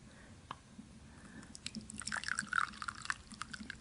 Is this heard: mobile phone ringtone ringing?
no